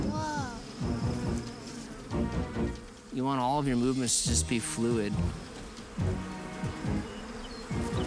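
A dense swarm of honeybees hums steadily around an opened beehive holding about 20,000 bees, the buzzing close and continuous while a person talks over it.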